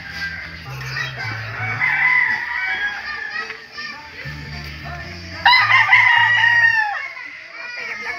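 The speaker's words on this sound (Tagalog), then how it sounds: "Ito yung mga manok niya dito." Several fighting roosters crow loudly on a farm, long strained calls rising over steady clucking and low background murmur, one crow bursting close and loud near the end.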